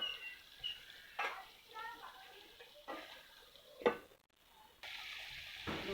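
Mutton sautés in a pan with soft, intermittent sizzling and scraping stirs, quiet and close, broken by a few sharper bursts of frying hiss and short pauses between strokes.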